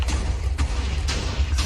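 In a Rust-style survival game, a rat mounted on the player's head fires a rocket launcher with lasers, a dense low rumble of explosions punctuated by several sharp blasts about half a second apart.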